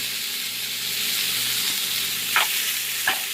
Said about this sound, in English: we're just going to crumble that up and mix it all together